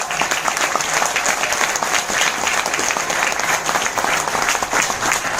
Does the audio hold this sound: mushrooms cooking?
no